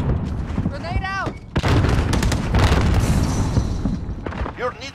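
A grenade blast in a Modern Warfare 2 multiplayer match lands as a loud boom, followed by dense rumbling gunfire and explosions, with a radio-style voice chattering before and after.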